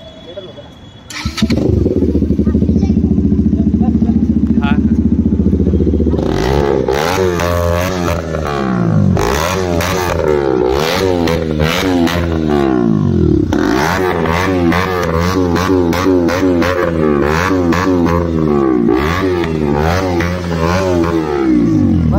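KTM Duke 250 motorcycle fitted with an Akrapovic exhaust and dB killer, started at night and then revved repeatedly in loud, sharp bursts that rise and fall, close by, with voices of onlookers in the background.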